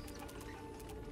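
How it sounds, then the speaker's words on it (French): Faint, quiet video game machinery noise with a rapid ticking, ratchet-like clatter over a low steady hum. "J'ai l'impression que c'est le bruit de la machinerie qui est à côté."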